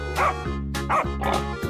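A dog barks in a series of short, bright yips and bow-wows, three or four quick calls in a row, close and clear with no talk.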